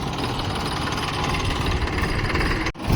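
A tractor engine runs steadily nearby, a loud, even rumbling drone with a faint rhythmic vibration throughout, broken only by a short dip just before the end; no talking is heard.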